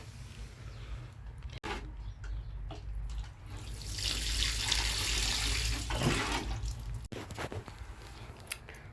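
Water pours onto soil while a tomato seedling is watered during planting in a greenhouse, a soft splashing trickle that swells into a steady gush midway and then tapers off, close and alone with a few light knocks.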